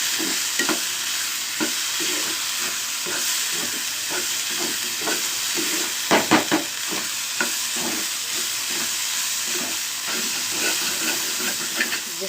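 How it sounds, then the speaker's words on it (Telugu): Momo filling stirred with a splash of soy sauce in a hot pan, a steady sizzle and hiss running throughout with scraping stirs and a brief cluster of louder clanks near the middle. "సోయా సాస్ కొంచెం అంత, కొంచెం వేసానండి. జస్ట్ అన్నీ కలుపుకున్నాను బాగా."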